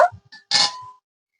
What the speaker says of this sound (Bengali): এবার একটা স্ট্যান্ড বসিয়ে দেব